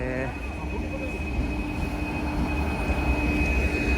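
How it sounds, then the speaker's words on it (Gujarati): A train from Rajkot rumbles in at a station in Gujarat with a steady low roar and a thin high whine, people talking over it. "તો તમને દેખાય છે આ ટ્રેન આવે છે અત્યારે આપણી રાજકોટથી"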